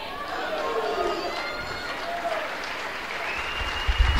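A church congregation applauds during an evangelical service, scattered clapping mixed with voices and cheering, with some sustained tones in the background.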